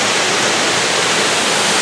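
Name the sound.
small waterfall pouring into a pool in a forest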